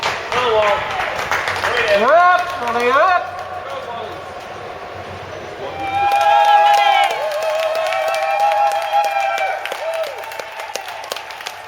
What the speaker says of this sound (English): You've probably heard from the noise and the cheering.